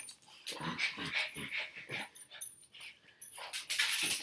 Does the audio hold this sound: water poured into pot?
no